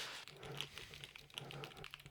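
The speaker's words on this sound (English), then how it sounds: "canceling out background noises with keyboard strokes and even mouse clicks" Quiet keyboard typing, a rapid run of light keystrokes with a couple of sharper clicks, picked up faintly through a HIFIMAN x ROG Kithara gaming headset microphone over a low background hum, with no talking.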